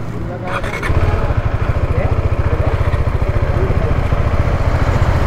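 KTM adventure motorcycles set off together on a Sunday group ride near Pithoragarh, engines rumbling loud and close with a steady, pulsing throb that firms up after the first second.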